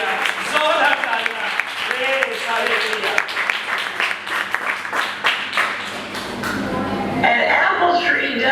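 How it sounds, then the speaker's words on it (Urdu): A church audience applauds loudly for a pastor's testimony, bursts of clapping mixed with voices and music running throughout. "زوردار تالیاں"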